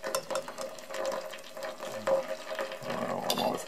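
Melted butter for ghee bubbles gently in a small saucepan as a fork or skimmer scrapes and stirs it, a soft close crackle with light metallic clinks.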